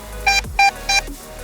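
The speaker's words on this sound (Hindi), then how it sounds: "जब हम इसमें start flashing and beeping click करते हैं तो आप लोगों को इस तरीके की आवाज आती है।" A DJI Air 3S drone in find-my-drone mode sounds three loud, close electronic beeps in an even rhythm, each a short bright tone with a clipped gap between, alone with no talk.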